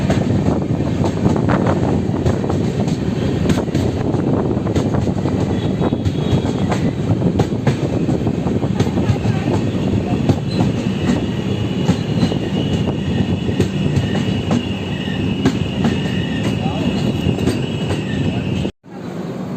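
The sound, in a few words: express train running through a railway station without stopping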